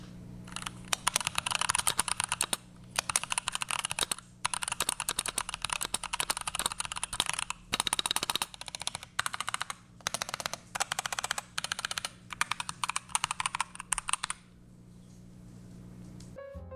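Rapid typing on a GMMK Pro mechanical keyboard with Boba U4T switches, tape mod and kitchen drawer mod, dense bursts of clacky keystrokes with brief pauses, close up, ending in quiet.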